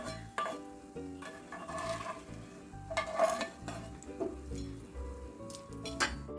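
Roasted gram goes into a pan of jackfruit-fibre chips and is stirred and fried, with clinks and scrapes of a utensil against the pan over a light sizzle, close and uneven.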